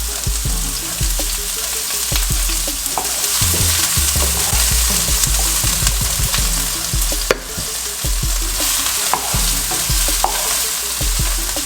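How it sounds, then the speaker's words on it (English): Onion fries in a little oil in a pan beside sausage, a loud continuous sizzle close up with repeated stirring scrapes and taps against the pan, no talking. "I need to put this onion here. Little bit of oil."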